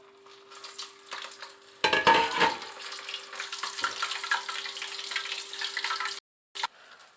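Pieces of food dropped into hot oil in a pan burst into a loud sizzle that settles into a steady, bright frying hiss before cutting off abruptly, with a faint tone running underneath.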